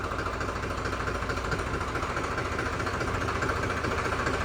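A tractor fitted with a Safari steering setup stands idling at very slow throttle, its engine giving a steady, low, knocking rumble throughout, moderately quiet and close, with no talk.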